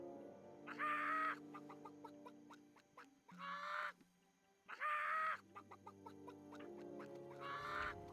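Chickens clucking and squawking in World of Warcraft Classic, four loud bursts of cackling over a steady game soundscape, with the calls spaced a couple of seconds apart.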